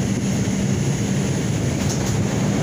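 An R142 subway car on the 6 train runs with a steady, loud rumble that fills the whole stretch without letting up.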